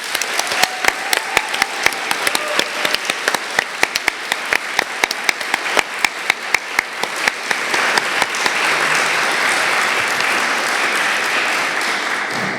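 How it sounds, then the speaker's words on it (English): An audience applauds contributors at a public event, a dense wash of hand claps with sharp individual claps standing out at first, then swelling into a steady, fuller roar of clapping for the remainder. "let's give them a round of applause"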